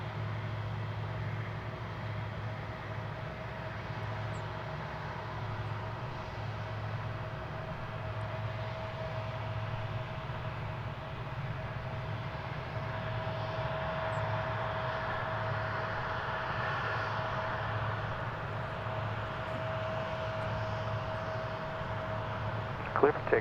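A steady, distant jet engine roar from an American Airlines Boeing 777 taking off at Dallas/Fort Worth airport, holding level throughout under a faint constant hum, with a brief louder knock right at the end.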